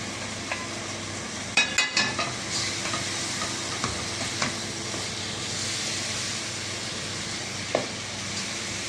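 Chicken sausages fry in a pan with a constant close sizzle and hiss, punctuated by a quick cluster of sharp spatula clinks early on and a few lighter knocks later.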